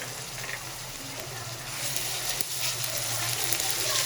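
Ginger garlic paste hits frying onions in a pot while cooking Kashmiri daal chawal, giving a loud, steady hissing sizzle that swells slightly toward the end, close by with no talking.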